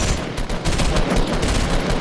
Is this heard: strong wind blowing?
no